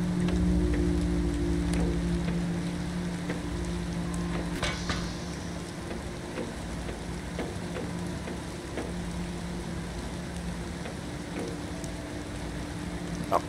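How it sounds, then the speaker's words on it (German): Steady rain falling in the sci-fi survival game Planet Crafter, a continuous dense patter with scattered droplet ticks over a low humming ambience, constant and fairly close throughout with no voices. "Es regnet ja schon wieder."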